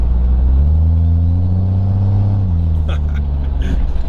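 A diesel truck engine revs while rolling coal, a loud, steady low rumble that holds for a couple of seconds and then shifts and drops, with brief higher rattles near the end.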